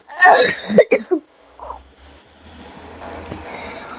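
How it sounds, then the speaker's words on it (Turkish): A person who is ill coughs several times in quick, harsh bursts up close, then the room falls to faint background noise. "Ay öksürüğüm çok var ya"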